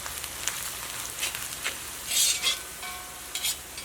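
Onions sizzle and fry in a pan as they are stirred now and then, with scraping stir sounds rising over a steady crackle, no voices present.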